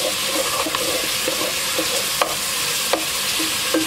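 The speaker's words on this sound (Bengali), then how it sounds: "এখন সব কিছু একটু নেড়ে ভেজে নিব।" Chicken fries with garlic, soy sauce and ginger-garlic paste, a continuous sizzle under repeated scraping strokes of a spoon stirring the pan, with a few sharper clacks along the way.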